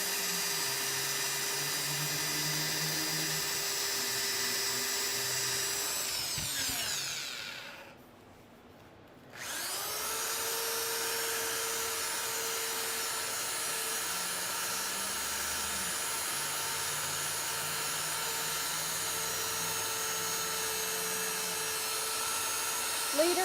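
Sanding a wooden vase spinning on a wood lathe: a steady, loud whining hum with strong high overtones that briefly cuts out and drops near the middle, then spins back up and continues evenly to the end.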